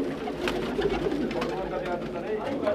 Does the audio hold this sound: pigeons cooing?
yes